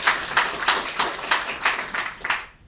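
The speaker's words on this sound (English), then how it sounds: "applause to Märt" A small audience claps in brief applause for a trainee at an organizational event, a steady patter of hands close by, fading out at the end.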